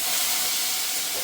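Leafy greens hit hot oil with browned garlic, a loud, even, close hiss of steam and sizzle filling the moment with no talking.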